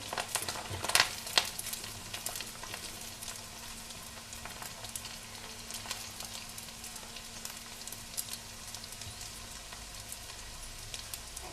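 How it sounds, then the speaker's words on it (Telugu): Gulab jamun balls made from bread deep-fry in hot oil until golden brown, giving a steady, close, bubbling sizzle with scattered crackles that are strongest near the start, and no voices. "ఈ గులాబ్జామ్ బాల్స్ని అయితే గోల్డెన్ బ్రౌన్ కలర్ని అయితే వేపుకోవాలి"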